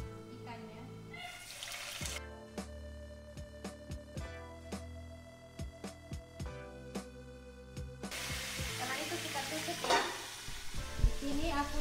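Milkfish frying in hot cooking oil, a steady crackling sizzle with sharp pops and spatters that swells louder near the end, close by, with occasional talk in the background.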